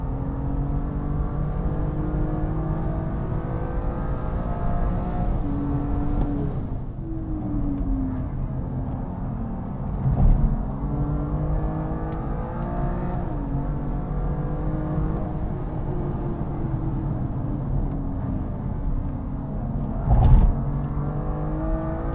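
A BMW M2 Competition with a dual-clutch transmission drives the Indy circuit at Brands Hatch on Goodyear Eagle F1 SuperSport tyres, its engine droning loud and steady from inside the car, with rising and falling revs and brief gearshift thumps.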